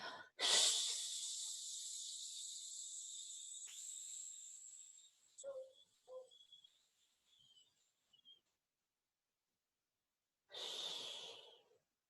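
A slow, breathy exhale during a morning mindful-breathing meditation, steady and hissing for several seconds before trailing off, followed by a couple of soft small sounds and another brief airy breath near the end, close and quiet.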